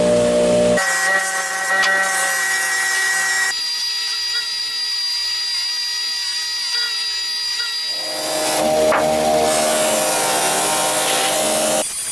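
Loud, continuous abrasive rubbing and grinding against the wooden handle of a 1930s Lenox screwdriver, shifting in pitch and texture across several passes of hand filing, sanding and power sanding up close.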